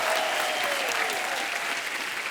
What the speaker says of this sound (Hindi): कारण के लिए एक बार जोरदार तालियां हो जाए